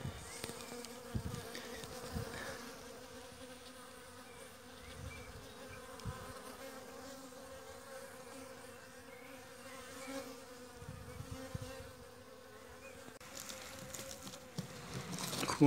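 Dense buzzing of many honeybees flying close by at a hive, a continuous hum with occasional louder passes near the microphone.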